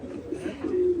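Pigeons coo in a short burst after release, a low warbling call rising and falling over a steady background at moderate loudness, with no talk.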